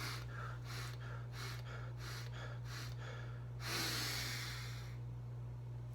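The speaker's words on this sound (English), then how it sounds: "It's an abnormal series of breathing followed by an apneic period." A person demonstrates cluster breathing before a lift: a run of about six quick, rhythmic sharp breaths, then a longer, stronger inhale and a pause, all faint over a steady low hum.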